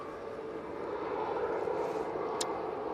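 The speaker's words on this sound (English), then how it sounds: "Emirates and taxi, just about to go past the runway visitor park for its flight back to Dubai" An Emirates airliner taxis past the runway visitor park at Manchester Airport ahead of a flight to Dubai, a steady broadband engine roar holding at a constant level throughout, moderately close, with no talk.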